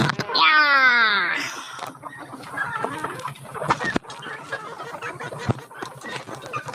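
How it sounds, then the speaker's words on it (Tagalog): Chicks and chickens cluck at feeding time, with a loud wailing call at the start followed by busy, close clucking and chirping throughout. "At pinapakain natin yung mga sisiw."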